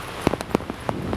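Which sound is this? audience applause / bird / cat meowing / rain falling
rain falling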